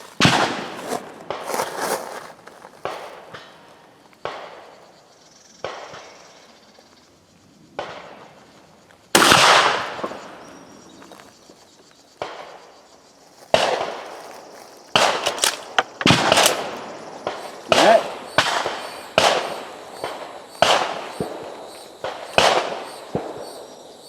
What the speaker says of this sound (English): This is going to be a headshot with the rifled slugs as a control.